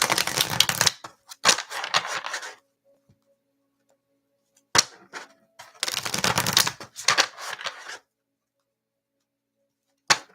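Cards from an Angel Inspiration tarot deck are shuffled and pulled in several quick, crisp riffling bursts, close and clear, separated by stretches of near silence.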